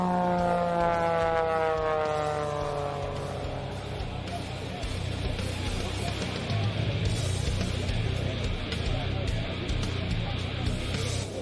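Aerobatic airplane flown inverted on its downwind leg at the Aviation Nation air show, engine pitch sliding down as it passes, then a steady roaring drone, with announcer talk partly over it.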